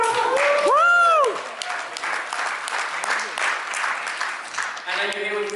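Audience applause and cheering after a 16-year-old is introduced on stage, steady dense clapping filling the clip, with a brief whooping voice near the start and a speaking voice over the crowd.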